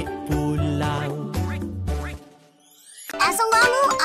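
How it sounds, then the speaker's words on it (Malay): A cartoon duck, the father duck in an Islamic children's animal story, lets out a quick run of loud quacks right after a stretch of light tonal music. "Ayah itik pun kuak, kuak, kuak."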